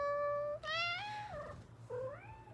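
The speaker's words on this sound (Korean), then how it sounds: "잠시만요 저희 고양이 왔거든요 보여드릴게요" A pet cat meows several times in quick succession, loud and close, with clear rising and falling cries separated by brief pauses and a low steady hum underneath.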